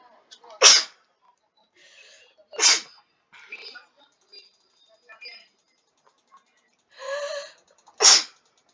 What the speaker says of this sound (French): Désolé pour des éternues.